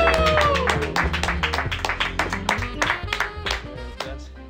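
A studio audience greets guest Jim Holmes with close, lively clapping that rings out in dense, uneven bursts before it thins and fades, along with a few whoops.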